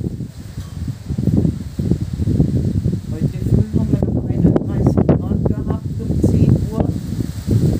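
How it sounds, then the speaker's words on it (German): Strong wind gusting through leaves around a house in rural Hungary, a loud, continuous rushing and rustling with buffeting on the microphone, swelling and easing over several seconds. "Jetzt ist es ein wenig ruhiger geworden mit dem Wind. Aber es zieht schon gescheit durch."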